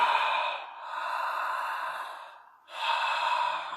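Pranayama breath drawn through a partly closed glottis, giving a soft, steady hissing rasp in two long strokes with a brief pause between, heard close and alone.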